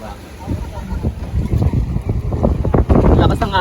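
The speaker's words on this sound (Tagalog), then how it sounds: "Malakas ang alon." Rough sea water churns and slaps around an island-hopping boat off Caramoan, Philippines, with gusty wind buffeting the microphone and a low rumbling wash throughout.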